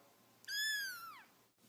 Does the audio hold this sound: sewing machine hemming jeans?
no